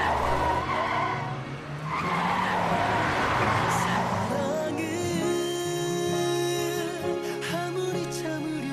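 A car skids hard with a long, loud tire squeal, then the noise fades into a steadier engine and road wash, with no speech over it.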